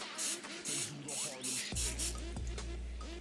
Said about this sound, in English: Make sure to spray the pan thoroughly to avoid the viscosity of the marshmallows.